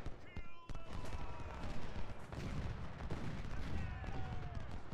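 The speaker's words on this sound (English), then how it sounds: "Goddamn artillery." Artillery fire in the Ultimate General: Civil War video game, a dense rumbling barrage of booms and crackling shots layered continuously over a battle din, with talk faintly underneath.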